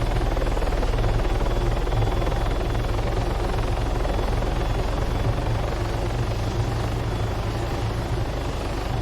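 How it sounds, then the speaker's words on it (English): Helicopter engine and rotor in the military game Arma 3, a steady loud whine and low thumping drone held continuously throughout with no talk. "listen to how the helicopter changes. You hear the sound, the difference in the engine sound"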